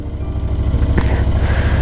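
A Royal Enfield Continental GT 650 motorcycle idles while warming up, a loud, steady low throb with an even pulsing beat close by, continuing without a break.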